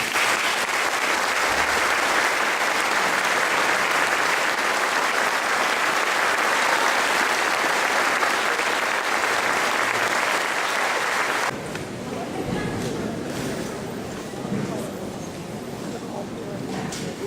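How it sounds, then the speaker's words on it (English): A large crowd at an eighth-grade graduation claps in sustained, loud applause for retirees for about eleven seconds, then it fades to scattered background noise and murmuring. "One more round of applause for our retirees."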